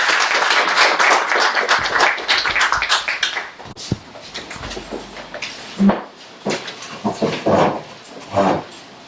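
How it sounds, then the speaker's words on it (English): An audience at a Town of Clinton board meeting gives a round of applause, a dense patter of clapping for the first few seconds that then thins out into scattered sounds and room noise. "let's give them a round of applause"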